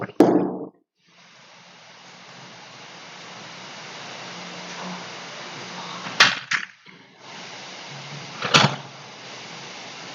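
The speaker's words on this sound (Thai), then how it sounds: "ผมไปปิดประตู" A door shuts indoors with a sharp thud at the start, followed by a low steady hiss and a couple of brief knocks and clunks later on, with no talking.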